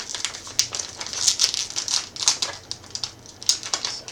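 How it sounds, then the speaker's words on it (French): Scissors snipping and crinkling open a plastic snack package of flat pizza-flavoured crackers, a run of close, sharp cutting clicks and crackles with no talk. "Alors, comment je vais ouvrir ça? Avec des ciseaux."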